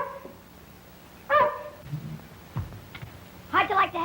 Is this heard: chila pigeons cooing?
no